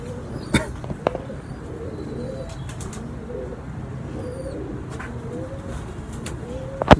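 Racing pigeons coo in low, repeated murmurs close by, with a few brief clicks and taps over a steady ambient background.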